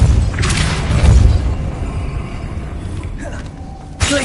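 A Depulso force-push spell cast in Hogwarts Legacy, heard as a loud, rumbling magical blast over dense low combat noise, with a sharp burst near the end.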